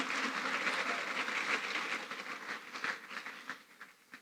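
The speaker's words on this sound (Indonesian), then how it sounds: "Tepuk tangan dulu untuk narasumber kita yang luar biasa." A university talk show audience in West Kalimantan applauds the speaker, Prof Mahfud MD, with dense, steady clapping that thins into scattered claps and fades out.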